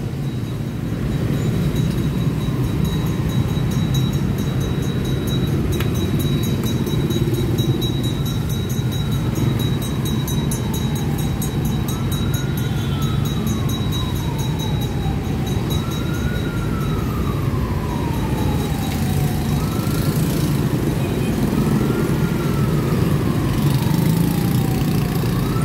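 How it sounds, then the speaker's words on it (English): Dense street traffic on Hai Ba Trung Street in Ho Chi Minh City, a loud continuous engine drone with repeated rising and falling whines of passing vehicles and no talking. "A lot of traffic, look at that"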